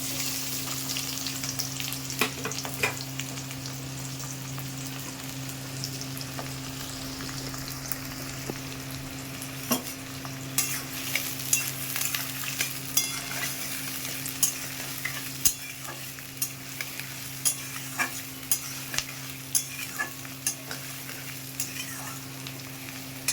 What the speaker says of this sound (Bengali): তেলটা গরম হয়ে গেছে, দিয়ে দিয়েছি পেঁয়াজ কুচি